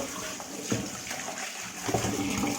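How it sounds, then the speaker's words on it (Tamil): Spinach greens (keerai) are rinsed by hand in water, with soft sloshing, splashing and trickling that carry on unevenly, close and fairly quiet. "ஒரு 3 தடவை இந்த மாதிரி அலசணும்"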